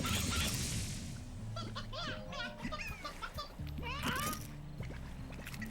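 Chickens cluck in short, bouncy bursts in the video game Slime Rancher, mixed with other busy game sounds and low tones. The clucks cluster in the middle of the stretch.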